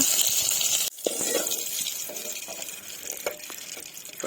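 Dried fish frying in hot oil, a continuous loud crackling sizzle close up, briefly interrupted and then resuming with small pops and stirring scrapes, no voices.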